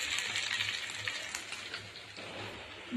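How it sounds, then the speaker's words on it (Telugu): Soft sizzling of okra frying on low heat in a seasoned pan, with light stirring scrapes; quiet and steady with no voices. "బెండకాయలన్నీ కూడా పోపులో కలిసిపోయేలాగా బాగా కలుపుకున్నాం"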